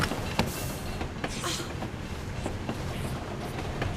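Train rolling along rails in the video game 007 Bloodstone, a steady, fairly loud rumble with faint clicks and rattles from the wagons running continuously, no voices over it.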